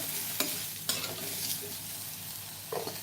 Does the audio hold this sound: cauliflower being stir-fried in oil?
yes